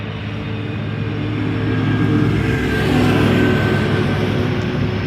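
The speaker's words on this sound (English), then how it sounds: "Tractor passing by to the north on the cycling path." A tractor engine rumbles steadily at moderate distance on a cycling path, growing slightly louder midway as it passes, with no voices.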